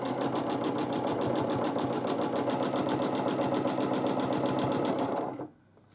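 A sewing machine runs continuously while quilting along a stitch line, a rapid, even mechanical chatter close by that stops abruptly near the end.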